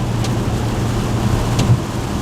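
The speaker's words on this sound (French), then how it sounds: "Oh mais il pleut à mort!" Heavy rain drums on a driving car, heard from inside the cabin as a dense, steady wash over the low road rumble of the moving vehicle, with two brief louder splashes.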